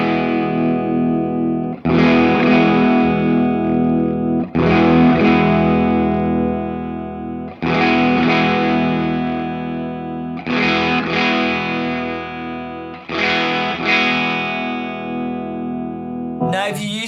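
Electric guitar through a Pettyjohn Electronics Chime preamp/overdrive pedal during a tone control sweep, six sustained overdriven strums each ringing out for about two to three seconds, loud and close, with the tone shifting between them.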